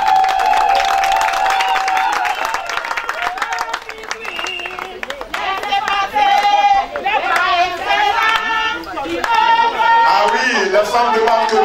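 A crowd at a women traders' association event claps and cheers to welcome an honoured guest, Monsieur Gué Bissaï. The clapping is loud and dense, with voices and shouts mixed through it.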